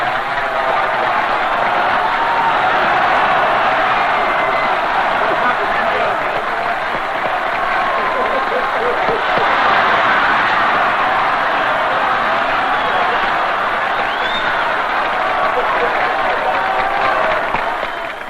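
Crowd applause and cheering from a large audience at a political gathering for Indonesian leader Sukarno, a dense, steady roar of clapping that fills the whole stretch at close, loud level, with voices mixed through the crowd.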